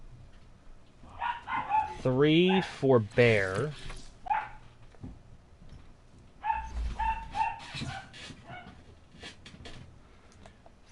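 A dog lets out a run of sharp, close barks, then another burst a few seconds later, while someone talks over and between them.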